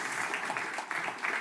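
Brief applause from an audience at a medtech business evening for startup pitch participants: a moderate wash of many hands clapping, with slight swells in intensity.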